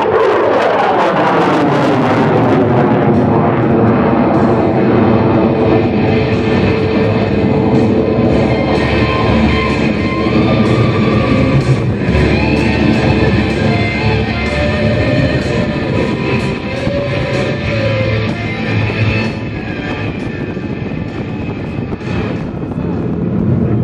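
Loud, sustained roar of an F-16 Viper jet engine in a maximum-performance climb from 300 feet during an East Coast demo at the Coastal Carolina Air Show, a steady broad rumble filling the whole stretch with no talk over it.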